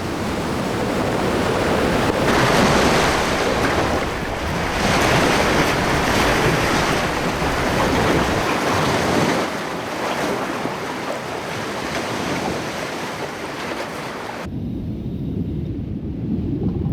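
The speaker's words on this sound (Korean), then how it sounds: "바다는 때론 성난 파도를 불러옵니다." Rough ocean waves surge in a continuous roaring wash, loud and swelling in long rolling pulses, with wind buffeting throughout and a brief drop near the end.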